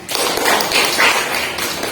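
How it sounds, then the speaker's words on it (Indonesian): Classroom students clap their hands together in a dense, busy burst that holds steady at close range for about two seconds, with no talk over it. "Oke, tepuk tangan."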